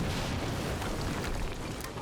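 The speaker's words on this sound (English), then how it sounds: "HQ, we just heard an explosion near the harvesting perimeter." An explosion in the video game Quantum Break gives a dense, sustained roaring rumble that fills about two seconds at steady loudness, with crackling debris-like texture on top and no talk.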